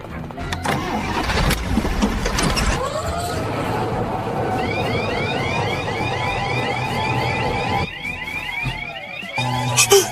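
A military truck engine cranks and catches, settling into a rough running drone, while a high warbling siren-like wail rises over it and a few people speak briefly at the start.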